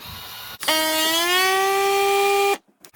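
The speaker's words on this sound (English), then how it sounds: "I'm just going to vacuum seal these with my food saver here" FoodSaver vacuum sealer sealing packages of homemade back bacon, a close, loud, steady electric hum that holds for about two seconds, then cuts off sharply.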